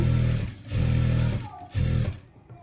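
A sewing machine stitching a one-inch hem with ready-made piping whirs in three short, rapid bursts with brief pauses between, close up and steady.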